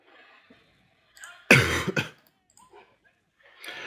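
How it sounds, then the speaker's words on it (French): A single sharp, loud cough bursts out, followed by faint murmuring and quiet breaths. "je suis désolé si je tousse"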